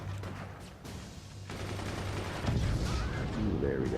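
Minigun and machine gun fire in the physics fort-battle game FORTS, a continuous stream of rapid rattling shots with low booms underneath, mid-level and steady, while a commentator talks over it.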